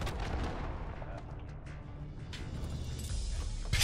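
Cruise missile strike in Call of Duty: Modern Warfare, heard as a deep, rumbling blast that rolls on for seconds and ends in a sharp, loud burst.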